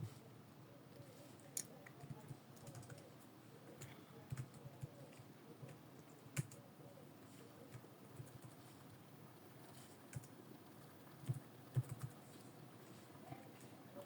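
Soft, steady typing on a computer keyboard while writing React code, quiet irregular key clicks with occasional sharper taps, close and alone without talk.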